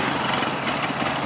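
A motorcycle engine running with the choke on heavy, parked in a national park after trouble starting, giving a dense, steady, buzzing mechanical drone close by with no pauses.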